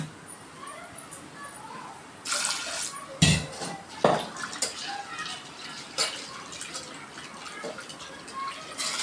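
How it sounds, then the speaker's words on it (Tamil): Water is poured over toor dal in a cooking vessel, making a continuous soft splashing and gurgling with a few sharper splashes partway through. "அது மேலே தண்ணி ஊற்றிக்கலாம்."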